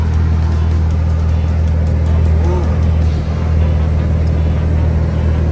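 A Scania 112 HS truck hauling 32 tonnes of corn climbs a rainy uphill mountain road, its heavy engine droning steadily and loudly with a low rumble throughout, no talking.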